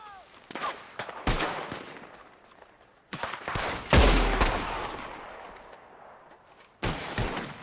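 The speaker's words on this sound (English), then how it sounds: "Are you shooting?" Gunfire in Red Dead Redemption 2, with loud bursts of shots in clusters separated by short pauses and a heavy boom near the middle, sharp and close.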